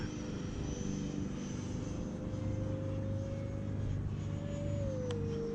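An E-Flite Viper 70mm electric ducted-fan RC jet flies with a steady whining drone heard from a distance, holding one pitch and then shifting as it passes, faint against a constant background.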